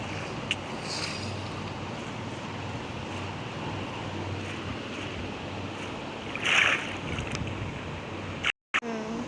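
A Minecraft character swims through water, giving a steady washing, bubbling ambience of game water with a few brief splashy surges, held at a moderate level throughout.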